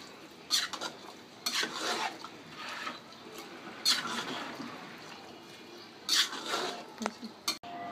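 Chotpoti ingredients being mixed with two tablespoons of sugar, scraping and clinking of a spoon against a bowl in repeated bursts, close and moderately loud, with faint voices in the background.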